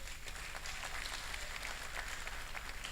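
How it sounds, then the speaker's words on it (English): A seated audience at a postgraduate orientation and matriculation ceremony applauds, a steady wash of many hands clapping filling the hall for the full stretch without a break. "Please, a round of applause for yourself."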